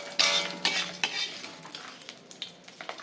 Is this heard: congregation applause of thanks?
no